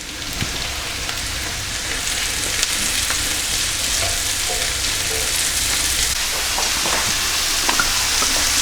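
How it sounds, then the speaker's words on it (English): Mushrooms fry in melted butter in a pan for a steak and mushroom gravy dish, making a loud, continuous hissing sizzle with occasional stirring clicks, close up and with no speech. "melt the butter and then add the mushrooms to the pan and just cook those through for another couple of minutes"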